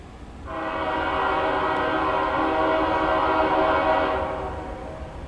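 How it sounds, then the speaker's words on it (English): A CSX local mixed freight train sounds its horn in one long, steady chord of about four seconds, loud and fairly near, over low rumbling background noise. "Cool horn."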